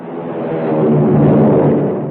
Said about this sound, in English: It's the sound of a mighty American Airlines flagship taking off.